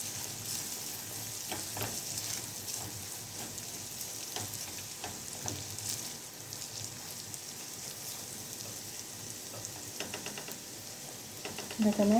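Crushed garlic (toum) fries in a home kitchen pan with a steady, soft sizzle and occasional stirring scrapes at close range, without pause.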